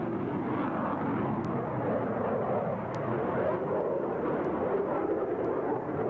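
A continuous roar of aircraft engines overhead at a 1987 airshow, loud and steady with a broad rumbling wash and no pauses.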